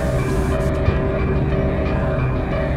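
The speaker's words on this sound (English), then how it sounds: "Okay, the tram's back on." A tram moving in the video game F.E.A.R. 2, a loud continuous rumbling drone with a steady mechanical hum and faint clicks, close and with no talking.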